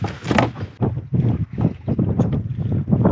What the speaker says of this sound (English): We come right at this point and it's got wind blowing on it.